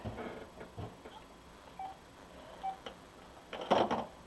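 A telephone sounds during a live craft stream on making a farmhouse front door wreath, giving a few short tonal beeps and clicks, with a louder burst near the end.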